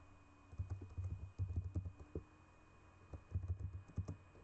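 Keys clatter on a computer keyboard in two quick bursts of typing separated by a short pause, close and fairly quiet, with no talking.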